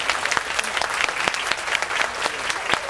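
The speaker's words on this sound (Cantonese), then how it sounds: "台上嘅辯員可以維持咁耐，好值得大家掌聲鼓勵" An audience at a university debate final claps for the debaters, a dense round of applause with sharp individual claps standing out up close, continuous across the clip.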